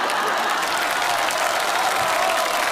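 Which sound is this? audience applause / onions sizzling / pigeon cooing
audience applause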